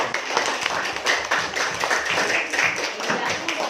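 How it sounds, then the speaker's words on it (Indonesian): Students in a classroom clap together, a close, dense burst of uneven hand claps with a few louder accents running throughout. "tepuk tangan buat Syaira."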